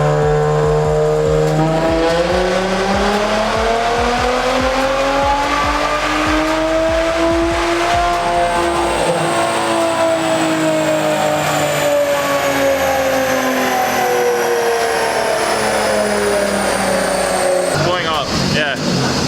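The VR30 twin-turbo engine of an Infiniti Q60s climbs hard through the revs on a dyno, a loud rising drone that eases off and falls away, with voices talking over it.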